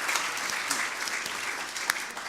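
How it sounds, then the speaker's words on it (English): Audience applause at a gathering after a chapel, prayer and meal program: dense, steady clapping from many hands fills the space at a fairly even level throughout, with no voices on top. "Give everybody a round of applause."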